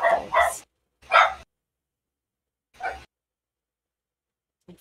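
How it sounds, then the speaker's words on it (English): Dogs barking, a quick double bark followed by two more single barks spaced apart, close and fairly loud with silence between them. "Dogs."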